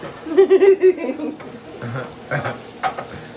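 Turkey sausage frying in a pan for lasagna, a soft sizzle with stirring scrapes and clinks under a voice.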